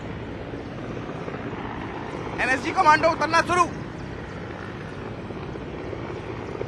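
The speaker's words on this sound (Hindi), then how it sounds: "वो हेलीकॉप्टर लगातार राउंड कर रहा है" A helicopter hovers and circles overhead during an NSG commando mock counter-terror drill at the Lucknow Vidhan Sabha, a steady engine and rotor drone throughout, with someone talking briefly over it.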